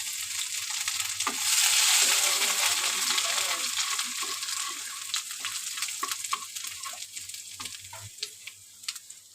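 Grated ginger fries in hot spiced oil for a quick potato-and-tomato khichuri, giving a steady, close, bright sizzle that swells early then eases into a lighter crackle with occasional pops, no voices present.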